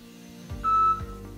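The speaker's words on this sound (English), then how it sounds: "so I got the beep" A smart lock gateway hub emits a short electronic beep after scanning a QR code shown on a phone, a single clear tone standing out briefly in a quiet room.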